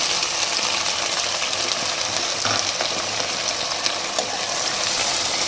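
Sliced onions sizzling in hot oil with crackled spices, a dense, steady frying hiss close by, with a few small pops and stirring sounds and no talking.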